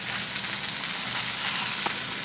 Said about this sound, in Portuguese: Deixa dourar um pouquinho e coloca a cenoura em palitinhos